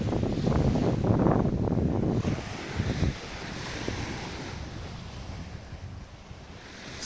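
Surf breaks on the beach at Lipa Noi, Koh Samui, in a loud, rumbling wash for the first few seconds. It then settles into a softer, steady hiss of waves with some wind buffeting the microphone.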